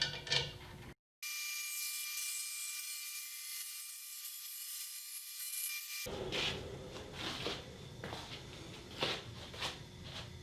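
A band saw cuts a thin wood inlay strip on an Accu-Sled 2: a steady, loud, high-pitched whine runs for about five seconds, then a rougher, noisier cutting texture with scraping bursts follows.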